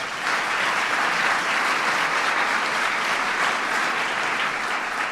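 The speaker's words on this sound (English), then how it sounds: "please give Regina a big round of applause" An audience at a ceremony honoring math and science educators gives a big round of applause, a dense, even wash of clapping that holds steady and loud throughout.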